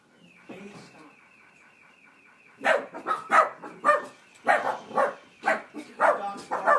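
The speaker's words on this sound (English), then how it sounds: "Dogs bark." A dog barks in a run of about nine sharp, evenly spaced barks that begin partway through, fairly close and loud against a quiet background.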